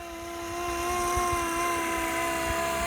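Flywing MH60T Jayhawk RC model helicopter in flight, a steady high-pitched rotor and electric motor whine that swells slightly louder then holds constant and near throughout, with no talking.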